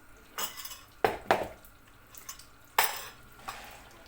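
Cut noodles stirred in melting butter in a pan give a few sharp, close clinks and scrapes of a utensil against the pan, scattered over a faint background.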